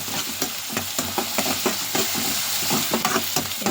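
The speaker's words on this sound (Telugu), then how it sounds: "ఇందులో వేసాను కదా ఆయిల్లో ఒకసారి చక్కగా కలుపుకుందాం" Onions stir-fry in hot oil in a pan for a taro stew, a loud continuous sizzle with quick, rhythmic scraping strokes of the spatula throughout.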